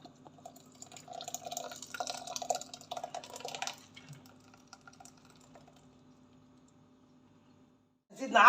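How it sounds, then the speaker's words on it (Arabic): Orange and carrot juice strained through a sieve: soft, close dripping and trickling liquid for a few seconds, then fading to near silence before a brief louder noise at the end. "نجيب مصفات فوالا، ونصفي هذاك الخليط اللي رحيته اللي طيبته."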